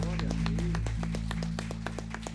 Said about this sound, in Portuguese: Vamos aplaudir forte ao Senhor